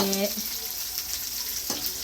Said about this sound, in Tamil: குழம்பு தாளிக்கிறோம் வீட்டுக்குள்ளே